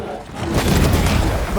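In Banishers: Ghosts of New Eden, an enemy fires an attack, heard as a short, loud, booming blast that swells and lingers, with a voice speaking nearby.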